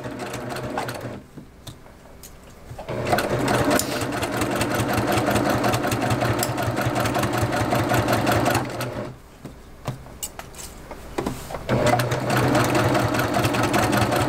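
A sewing machine stitches a vintage butterfly quilt in steady, rapid runs that pause briefly and restart, loud and close with a continuous mechanical hum.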